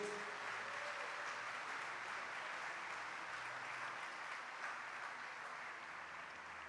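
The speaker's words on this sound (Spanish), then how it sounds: "Dale un aplauso a la palabra de Dios." A church congregation claps together after a scripture reading, a steady wash of applause sustained throughout at moderate distance with no speech.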